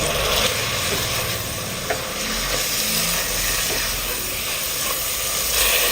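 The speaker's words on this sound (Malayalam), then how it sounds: "തക്കാളിയും കൂടെ ചേർത്ത് കൊടുത്തിട്ട് ജസ്റ്റ് ഒന്ന് ഇളക്കി കൊടുത്താൽ മതി" Chopped medium tomatoes stirred into hot sautéed onions in a pan for a porotta dish, giving a steady loud sizzle and hiss with a few soft scraping stirs, no voices.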